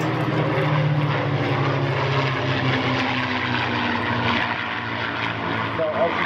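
Spitfire fighters flying in formation over an airfield at an airshow, their piston engines giving a loud, steady propeller drone that holds throughout with slight swells, a commentator speaking over it.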